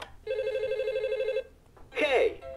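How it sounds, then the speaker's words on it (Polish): A Lightning McQueen toy learning phone switches on with a steady electronic ring tone lasting about a second, then a short, louder burst of sound from its speaker follows a brief pause. "A teraz włączymy telefon."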